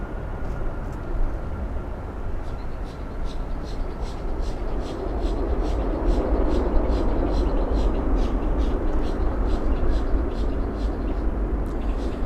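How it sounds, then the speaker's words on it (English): Airliner taxiing out at Miami International Airport, a steady broadband engine rumble and whine holding loud and continuous, with a faint rhythmic ticking layered above and low voices partly mixed in. "Looks like TAP is also taxiing out"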